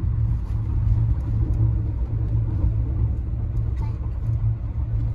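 A car engine runs close by at a family wedding during the groom's photoshoot, giving a steady, loud low rumble with no clear rise or fall.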